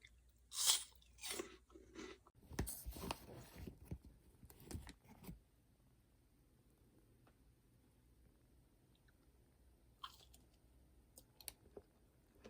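Crunching bites and chewing of a frozen matcha tart, several loud crisp crunches in the first five seconds, then quiet with a few faint clicks.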